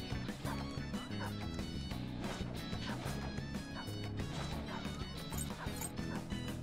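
Guard dogs bark inside a bank palace in Persona 5 Royal, sounding as a steady, repeated barking over dense game music that continues throughout.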